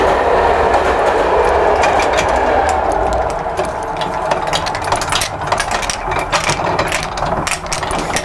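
A train runs past a level crossing, loud and close, with a steady rolling roar and rapid clattering of wheels over rail joints, and no voices.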